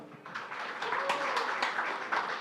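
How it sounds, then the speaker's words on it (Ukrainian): Applause from a forum audience in Lviv greeting the mayor of Freiburg, a steady wash of many hands clapping at moderate level, sustained through the whole stretch with faint voices underneath. "Прошу привітати оплесками мера Фрайбурга."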